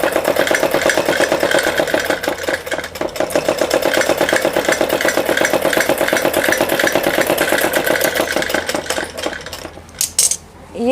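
A sewing machine runs a seam on the reverse side of a four-panel salwar with a steady, fast, whirring clatter that carries on loudly for about ten seconds and then stops abruptly.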